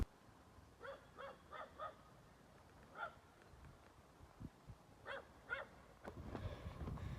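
A small dog gives a series of faint, distant yips and whimpers in short clusters, with quiet ambient noise between them.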